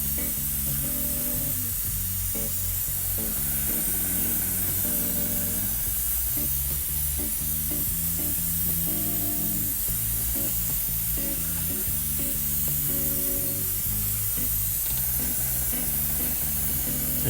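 An airbrush sprays paint onto a Zvezda T-34/76 model tank, a steady, close, unbroken hiss with faint shifting undertones running throughout.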